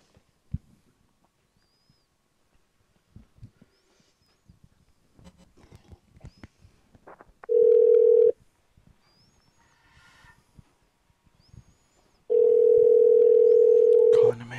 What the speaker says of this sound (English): I'm going to call Emmanuel Newton to calm me down, dude.